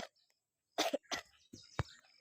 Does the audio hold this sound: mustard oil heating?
no